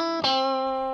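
Electric guitar through heavy distortion plays a riff, a short picked note with a sharp attack that rings on, loud and sustained, close up.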